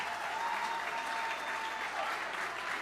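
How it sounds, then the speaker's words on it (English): An audience at a ballroom fundraiser applauds, a dense sustained patter of clapping from a sizable crowd that holds steady throughout. "Please give yourselves a ginormous round of applause."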